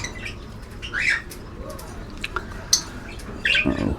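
Pet pigeons kept in cages where they are nesting on eggs, giving close squawks, chirps and coos with bursts of wing flapping, scattered irregularly over a soft background.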